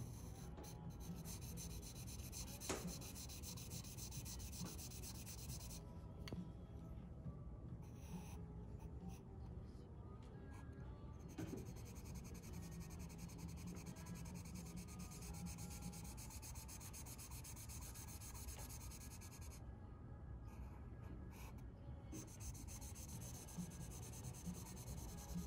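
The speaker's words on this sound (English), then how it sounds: "I'm using the tip of my pencil. And I'm just kind of defining where those hard edges are." The tip of a graphite pencil scratches and rubs on paper while edges in a still-life drawing of a skull are defined, producing a steady close scratching texture with brief pauses between strokes.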